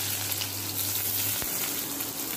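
Onion frying in hot oil with whole cloves and cinnamon for a white kurma, giving a steady, close, bright sizzle throughout with a single soft knock midway.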